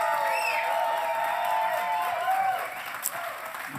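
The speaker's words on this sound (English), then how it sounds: "Can we give Tongo one more round of applause," Applause from the audience at a San José poetry slam, a steady bed of clapping with whoops and voices mixed in, easing off slightly near the end.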